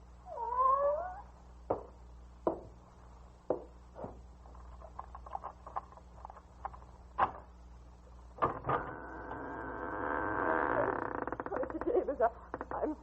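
A cat yowls and caterwauls indoors, with a wavering cry at the start, scattered clicks and knocks, and a sustained louder drawn-out wail near the end, with no one speaking.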